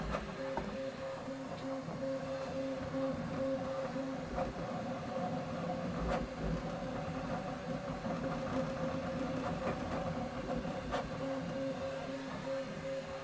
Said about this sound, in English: How loud the printer is?